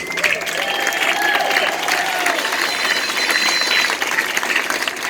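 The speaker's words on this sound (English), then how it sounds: "Give yourself a round of applause." A large rally crowd at the Oregon State Capitol applauds loudly and steadily, a dense continuous roar of clapping with cheers and whistles mixed in.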